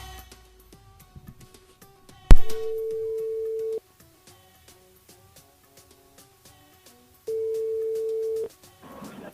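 A telephone ringback tone sounds while a radio show calls a listener, two long steady tones separated by a pause, clear and loud over faint background music.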